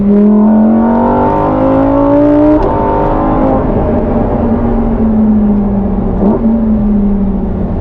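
A Lamborghini V10 engine revs hard while driving, a loud close rising snarl that shifts up, drops back and climbs again, with no one talking.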